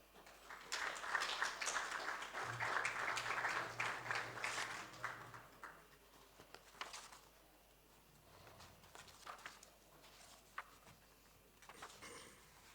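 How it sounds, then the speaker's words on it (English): An audience at a development-finance workshop claps for a bank CEO coming up as a panelist. The applause swells for a few seconds, then thins into scattered claps, fairly faint in a large room. "Round of applause, please."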